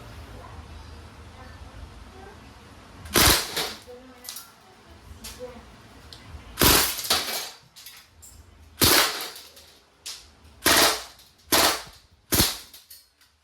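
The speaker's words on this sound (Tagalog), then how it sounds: "Firing. Semi-auto, full auto." Crosman SBR DPMS FDE Edition airgun rifle firing in semi-auto and full-auto, a series of sharp, loud cracks: scattered single shots, then several close bursts and spaced pops over a quiet background.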